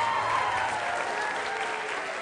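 A television studio audience applauding and cheering for a guest, a dense, steady wash of clapping at moderate distance that carries through without a break.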